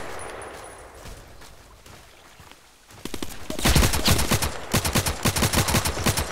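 Automatic gunfire in the shooter game Contract Wars on a lakeside map starts after a quiet ambient stretch, then bursts into loud, rapid volleys and a rhythmic string of shots.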